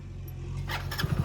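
A motorcycle engine starting up, heard over a brief murky background. It ends in a few quick, low, throbbing pulses as it catches.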